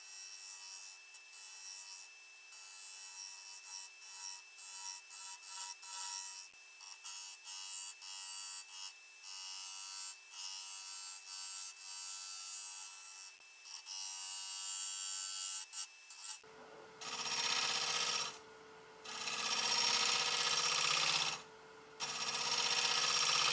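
A turning tool scrapes inside a hollowed yew bowl spinning on a lathe, cleaning up leftover ridges, a steady close rasping hiss in repeated strokes that turns brighter and harsher partway through.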